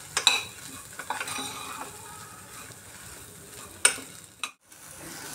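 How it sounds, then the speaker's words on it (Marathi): Moth beans (matki) stirred and sautéed in a pan over medium heat, a steady close sizzle broken by a few sharp scrapes and taps of a spoon against the pan, with no talking. "मटकी साधारण एक अर्धा मिनिट व्यवस्थित परतून घ्यायची मीडियम आचेवर"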